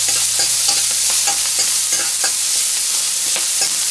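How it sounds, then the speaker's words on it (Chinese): Ginger, scallion and garlic stir-fry in a little base oil in a wok, a steady loud sizzle broken by repeated scraping strokes of the spatula across the pan, with no voices. "炒香，"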